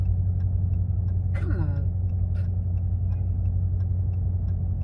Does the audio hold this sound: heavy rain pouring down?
no